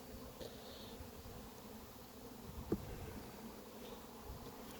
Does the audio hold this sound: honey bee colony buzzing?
yes